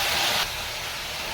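Tomatoes are dropped into a hot pan during Kerala-style cooking with onions and coconut pieces, giving a steady close hiss of sizzling that is slightly louder at first, then settles.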